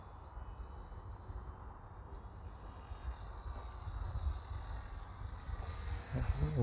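An RC Factory MXS-C model airplane flies under motor power, its faint, steady electric motor drone carried on a light breeze, swelling a little louder near the end as it passes closer.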